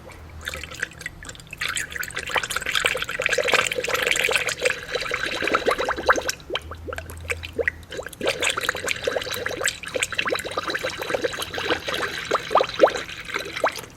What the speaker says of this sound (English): and pour coolant in.